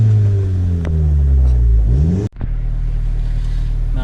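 Tenth-generation Honda Civic engine fitted with a PRL cobra race intake, revving loudly up and back down while parked, then dropping to a steady idle rumble, close and alone.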